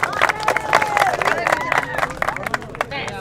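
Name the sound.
audience applause for football tournament queen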